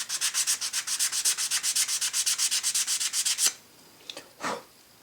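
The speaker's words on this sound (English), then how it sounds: "I've wrapped some sandpaper on my ruler. And I'll just give that a sand." Sandpaper wrapped around a ruler rubs back and forth across a scratch-built Red Dwarf model part, a fast steady run of about thirty close rasping strokes that stops abruptly, followed by a few soft handling scrapes.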